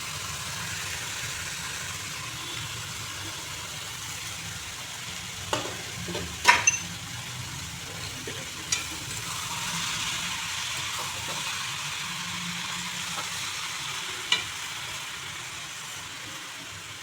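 Bottle gourd pieces with hilsa fish fry uncovered in a pan over a high gas flame, a steady, soft sizzle broken by a few sharp clinks of stirring.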